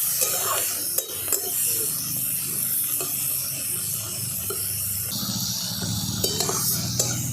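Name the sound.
prawns being lightly fried with turmeric in a pan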